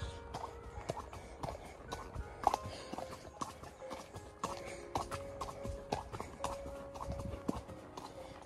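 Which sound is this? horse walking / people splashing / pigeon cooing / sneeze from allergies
horse walking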